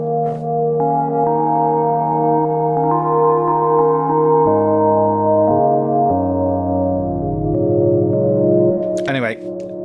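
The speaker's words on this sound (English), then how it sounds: "So I've got it set on an incredibly long reverb." Sustained synth organ chords shift through several changes, each ringing out in a long, washy reverb tail; a brief bright chirp closes it.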